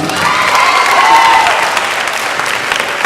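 Applause for award winners at a 4th grade graduation ceremony, a crowd clapping loudly and continuously with a few faint cheers and a brief whistle mixed in.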